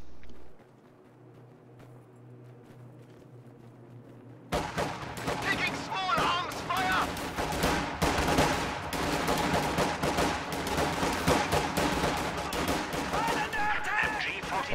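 Grenadier and rifle squad gunfire in a World War II strategy game battle, near silence at first, then sudden sustained rifle and machine-gun fire with dense overlapping cracks and occasional heavier blasts, and commentary talking over it.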